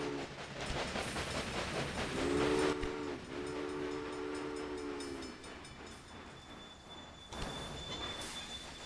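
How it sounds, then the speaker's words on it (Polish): A train runs in the railway management game Railway Empire, its wheels rumbling and clattering throughout as two long, steady whistle blasts sound near the start, followed by a brief squeal and a later burst of rolling noise. "Dojechał pierwszy pociąg, już bardzo."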